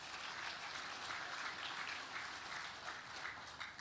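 Audience applause at an Indonesian government ceremony, steady dense clapping throughout, fairly faint and distant with no voices standing out.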